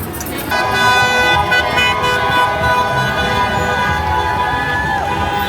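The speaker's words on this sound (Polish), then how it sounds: "Zeszłym razem też aż tylu kierowców nie trąbiło." Car horns honking repeatedly from passing drivers at a US street protest, several sustained and overlapping blasts over traffic and crowd noise, loud and close, with voices in the background.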